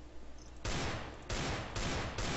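Sustained bursts of automatic gunfire in Counter-Strike: Global Offensive during a zombies custom map, several dense volleys in a row, fairly faint with a low rumble underneath.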